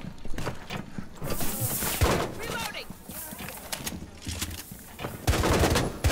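Bursts of video game gunfire, close rapid shots and clattering volleys that rise and fall, heard under and between voices talking.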